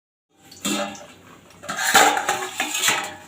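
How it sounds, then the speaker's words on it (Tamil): Metal clatters and clanks as a lid is set onto a cooking pot, a few close, sharp knocks and rattles. "மேலே தட்டு போட்டு மூடி கொதிக்க வச்சுக்கலாம்"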